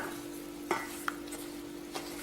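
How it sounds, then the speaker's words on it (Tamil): Wheat rava dosa batter of broken wheat, yogurt and water being stirred in a bowl, faint soft swishing with a few light scrapes and taps of the spoon over a steady hum. "நல்லா கட்டி இல்லாமல் கரைச்சிக்கிட்டுருங்க."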